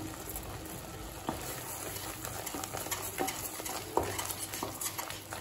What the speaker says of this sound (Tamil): 1 டீஸ்பூன் மிளகாய் தூள் வாசனை போக 1 நிமிஷம் வரைக்கும் வதக்கிக்கலாம்.